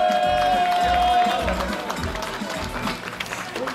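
Crowd applause at the podium prize-giving ceremony of a historic car rally in Estonia, a brief spell of clapping and cheering under music, with a voice briefly heard.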